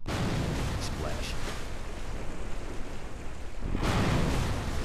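A spacecraft splashes down in water in the Kerbal Space Program video game, giving a loud rushing, surf-like roar that lasts several seconds, dips for a moment and then swells again.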